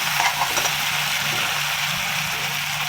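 Spices spluttering in hot oil in a pan while cooking a Bengali chhanar dalna, a steady dense sizzle and crackle close by, with no voices.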